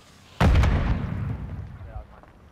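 A single grenade blast in Call of Duty: Modern Warfare III, a sharp loud boom with a rumbling tail fading over about a second and a half.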